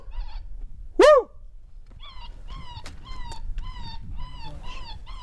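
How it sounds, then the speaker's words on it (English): A coyote in New Mexico mesquite country gives one loud rising yelp, followed by a string of shorter, fainter wavering barks and yips at a steady pace over quiet outdoor background. "Barking, Cody."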